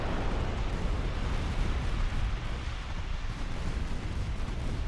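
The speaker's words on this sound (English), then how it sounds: "Republic is eating torpedoes left, right, and center." Torpedoes strike warships in a naval strategy game, a dense continuous roar of explosions and rumbling impacts at steady loudness with no pauses.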